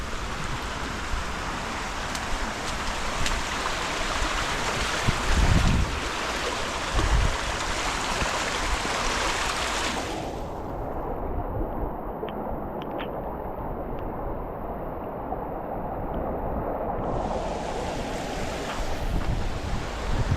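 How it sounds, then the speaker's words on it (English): A swollen stream rushes loudly in Denbigh during Storm Bert, a constant close roar of flowing water mixed with wind buffeting the microphone, with no talk. "The stream is quite high, you'll see in there."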